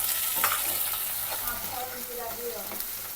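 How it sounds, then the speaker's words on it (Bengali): Mashed eggplant frying in oil with onion and garlic gives a steady close sizzle, broken by scattered stirring clacks and scrapes of a utensil against the pan, with faint background voices. "এবার বেগুন ঘাটিটা তেলে দেওয়া হচ্ছে"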